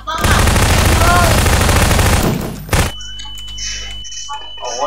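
Players shoot each other in Garry's Mod: a loud, sustained burst of rapid automatic gunfire lasts nearly three seconds, then cuts off. Quieter game sounds and a voice follow.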